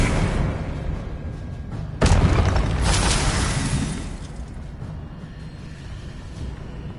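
Expelliarmus spell effect in the Hogwarts Legacy video game, a sudden sharp crack followed by a shattering, crackling burst that fades over a second or two, set against a steady low game rumble.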